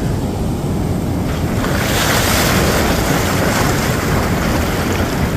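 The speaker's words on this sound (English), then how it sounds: "Tide's still coming in pretty potent right now. Washing all the way up to the far up in here." Ocean surf rolls in at Rosarito Beach on a foggy day with the tide coming in strongly, making a continuous loud, broad wash of breaking water mixed with wind rumble on the microphone.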